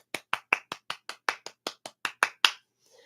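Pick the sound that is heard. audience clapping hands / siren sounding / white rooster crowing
audience clapping hands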